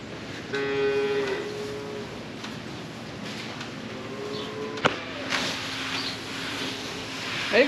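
Cattle moo on a farm at evening feeding time, several low drawn-out calls near and at a middle distance over steady outdoor background noise, with a brief knock partway through.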